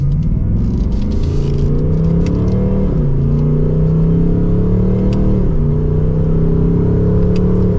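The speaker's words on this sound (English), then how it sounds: "So let's give it another acceleration here." A 2024 Ford Mustang GT accelerates with a loud, continuous engine and exhaust drone heard from inside the car. Its pitch climbs steadily, dips briefly at two smooth gear shifts, then climbs again.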